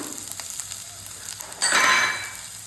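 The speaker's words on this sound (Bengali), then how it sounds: "তেল দিলাম, তারপর দেব 2 কাঁচা লঙ্কা আর পেঁয়াজ" Green chillies and onion dropped into hot white oil in a kadai, giving a sudden loud, steady sizzle that bursts in partway through after a quiet stretch and carries on to the end.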